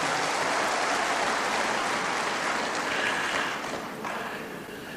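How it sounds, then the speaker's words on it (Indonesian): Sustained applause from a large crowd in an indoor hall at a book launch, dense and steady, fading slightly toward the end. "Tepuk tangan keras sedikit, jangan lemas"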